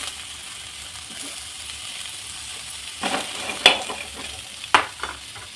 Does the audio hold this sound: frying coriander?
yes